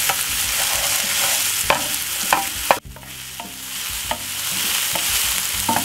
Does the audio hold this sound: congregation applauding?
no